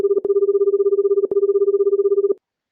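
Intan's mobile phone rings with an incoming call, a steady electronic two-tone trill repeating in three bursts with brief gaps, clear and close with no voices.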